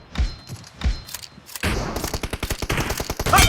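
Video game gunfire in BGMI during a team deathmatch shotgun challenge: a few spaced single shots, then a loud, rapid burst of repeated shots.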